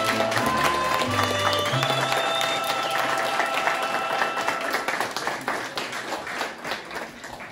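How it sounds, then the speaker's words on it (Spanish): Crowd applause at a quinceañera banquet in Tula, Tamaulipas, loud and continuous, with sustained musical tones sounding underneath at the start before the clapping thins toward the end. "un aplauso a toda la gente que nos está acompañando"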